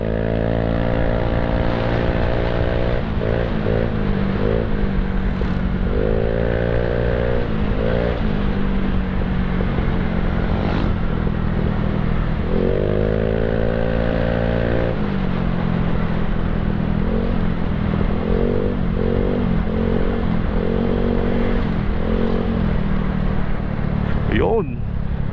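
A Yamaha Mio Sporty scooter with an aftermarket Apido exhaust idles and is revved repeatedly, rising and falling in pitch with a throaty, loud exhaust note, while someone talks over it.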